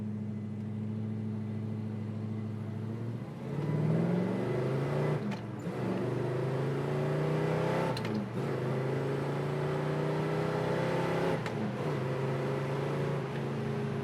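A 1968 Chevrolet Chevelle SS with a 396 engine accelerating hard through the gears, loud and close from inside, its pitch climbing then dropping at each of three shifts.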